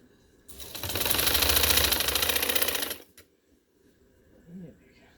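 A sewing machine runs a continuous stitching burst for about two and a half seconds, loud and close, while sewing a seam along a ladies' summer lawn-fabric trouser, then stops, leaving a quiet room with faint movement.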